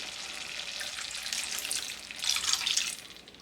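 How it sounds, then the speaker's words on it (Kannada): Water poured into a capsicum curry simmering in a pan, a steady close hiss and splash that swells briefly toward the end, with no talking. "ಒಂದು ಸಣ್ಣ ಗ್ಲಾಸಲ್ಲಿ ಅರ್ಧ ನೀರು ಹಾಕೋತೀನಿ."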